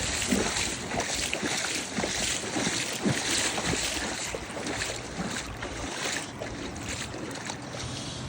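Steady, loud rushing water of a fast, shallow, flooding river in Melksham fills the scene, a broad continuous roar with some gusty wind buffeting, close by.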